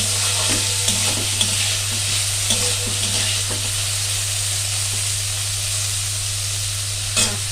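Bottle gourd peel and potato frying and being stirred in a pan, with a steady broadband sizzle and occasional soft clicks of a utensil scraping through, close up and constant with no talking.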